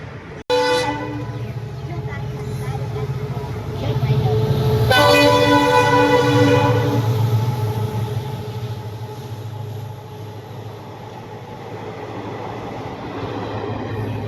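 A train passes a closed level crossing in Gujarat, its loud horn blaring in long sustained blasts after a sharp onset, while the heavy rumble of the rail cars carries on steadily beneath, close and dominant.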